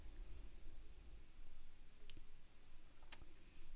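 Two sharp computer mouse clicks press the add button, spaced about a second apart over a steady background hum, with no talking.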